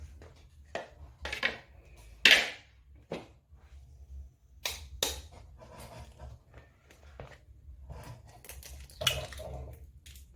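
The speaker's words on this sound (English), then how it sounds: "I'm going to beat the eggs and add them to the sweet potatoes." Eggs being beaten by hand in a bowl for a no-oven sweet potato recipe, heard as a series of quick, irregular clicking whisk strokes against the bowl, fairly close, with no talk.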